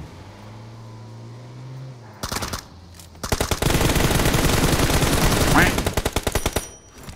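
Rapid automatic gunfire bursts in a shooting video game, loud and close, after a quieter stretch of game engine hum.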